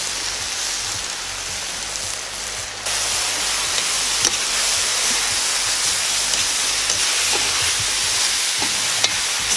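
Tomatoes sizzle and fry with pork ribs in a kazan over an open fire, a steady close crackling hiss that jumps louder partway through as more food hits the hot fat, with occasional pops.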